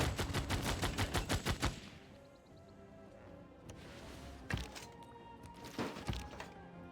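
Units fire in the Civilization VI strategy game, producing a loud rhythmic burst of rapid gunshots followed by scattered heavier distant blasts and thuds over quieter ambience.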